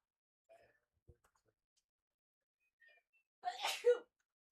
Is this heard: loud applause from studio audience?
no